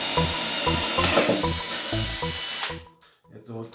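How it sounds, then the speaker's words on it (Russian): Power drill boring a pilot hole into wood, a close whirring drone with rhythmic pulses as the bit bites, then the motor winds down and briefly starts again. "заранее сделаю отверстие."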